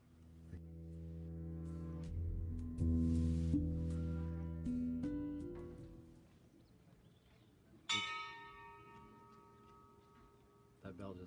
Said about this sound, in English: That bell just interrupted me.